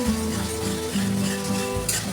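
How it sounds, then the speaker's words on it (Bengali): Spice masala for chana dal ghugni frying in a pan after a splash of hot water, with a steady close sizzle, a spoon stirring and scraping through it, and no voices. "এই মশলাটা কষাবো।"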